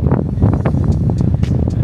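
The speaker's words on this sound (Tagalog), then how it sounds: "Malakas ang ulan. Malakas ang hangin." Heavy wind roars steadily across the microphone, a constant broadband rush mixed with pouring rain, in a housing neighborhood in Folsom, California.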